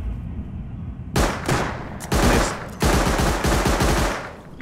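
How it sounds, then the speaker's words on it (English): Bursts of automatic gunfire from the survival game Rust, several loud close volleys in quick succession with brief gaps between them, no talking. "Wanna shoot or not? Shoot up."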